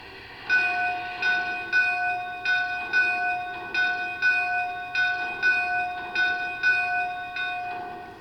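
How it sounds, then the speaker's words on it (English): A model Lionel American 4-4-0 brass locomotive bell rings steadily, about a dozen evenly spaced clangs with a ringing tone, clear and alone, like a hand-swung bell. "The bell sequence sounds very nice, very realistic for a hand rang bell"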